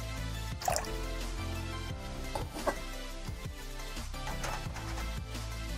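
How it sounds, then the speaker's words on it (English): Warm water is poured into a container to cover an antique glass cruet, giving soft liquid splashes and drips with a couple of sharper pours, fairly quiet and close, with no voices. "You need just enough water to cover your piece."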